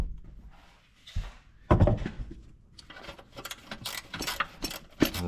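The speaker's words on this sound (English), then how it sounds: "This is where having that ratcheting wrench is amazing." A ratcheting wrench works bracket bolts loose on a Honda air-conditioning line, giving quick rapid clicks and metallic handling noises close up, with brief rustling before the louder clicking bursts.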